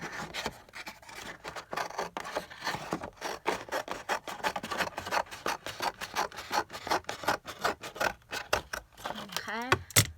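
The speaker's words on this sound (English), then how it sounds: "We're going to cut this piece off all the way across." Scissors cutting through cereal box cardboard for a junk journal cover, a steady series of crisp rasping snips and scrapes close up, repeating rhythmically across the whole stretch without talk.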